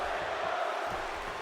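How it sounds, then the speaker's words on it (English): A wrestling crowd in WWE 2K16 cheers for Dolph Ziggler during a SmackDown match, a steady, broad roar of voices that holds at even loudness through the brief moment. "You can hear the crowd getting behind Dolph Ziggler"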